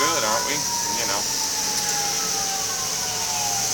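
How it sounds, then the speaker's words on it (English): Fire department sirens wailing in the distance, a wavering tone that sweeps up and down at first, then settles into a slow drifting howl over a steady high cicada drone, with a voice briefly present. "between the fire department sirens and the cicadas, we're doing good"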